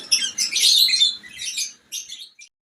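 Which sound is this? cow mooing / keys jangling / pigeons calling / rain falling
pigeons calling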